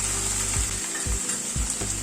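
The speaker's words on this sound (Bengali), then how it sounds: "মশলা কিন্তু গ্যাসের ফ্লেমটাকে মিডিয়ামে রেখে ভাজছি" Spices frying in a pan over a medium gas flame, a steady close sizzle with faint stirring scrapes and clicks throughout.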